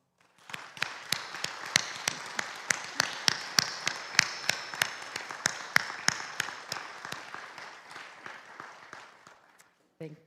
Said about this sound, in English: Please join me in recognizing Peter's contribution over the past 12 years with a round of applause